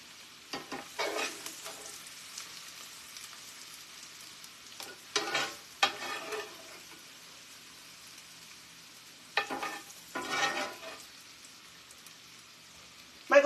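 Mushrooms fry in a pan once most of their liquid has cooked out, stirred in several short bursts of sizzling and scraping separated by quieter stretches, fairly close and moderately loud, with no talking.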